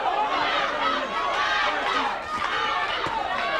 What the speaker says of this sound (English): Crowd chants Macho, Macho, very, very strongly in favor of the Macho Man, Hector Camacho.